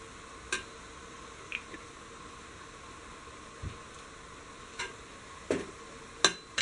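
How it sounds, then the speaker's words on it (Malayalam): Beef fried rice tossed with soy sauce and green chilli sauce in a pan: a soft steady hiss beneath sparse scrapes and clacks of the utensil against the pan, spaced a second or so apart, close by. "എല്ലാം കൂടി നന്നായിട്ടൊന്ന് മിക്സ് ചെയ്യുക."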